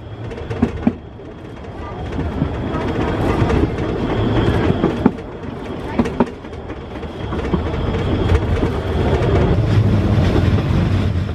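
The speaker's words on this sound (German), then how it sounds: "Nach wenigen Minuten Fahrzeit passiert der Zug die Staumauer der Talsperre und fährt kurze Zeit später in den Bahnhof ein." The narrow-gauge Weißeritztalbahn train runs through a valley past a reservoir dam, heard as a steady loud rumble with rhythmic rail clatter and occasional sharp clicks from the wheels.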